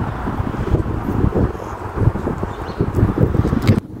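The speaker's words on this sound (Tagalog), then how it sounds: "Mahangin, pero hindi gaanong malakas." Gusty autumn wind buffeting the microphone in uneven low rumbles, fairly loud and steady, with no voices.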